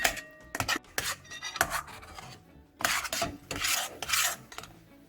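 Spoon stirring a kesar peda milk mixture in a pan over low heat, irregular scraping and rasping strokes with light metallic clinks, close up and alone.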